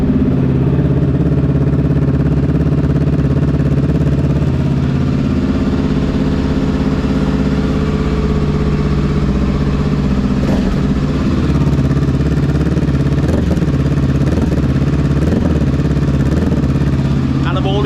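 A motorcycle engine idles steadily and loudly up close, with a low, even rumble and a light clatter throughout.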